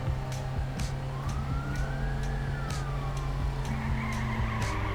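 Hot rod car driving in the Schedule 1 video game, engine droning steadily with a rising and falling whine like skidding tires, along with a string of regular ticking hits, continuous and close.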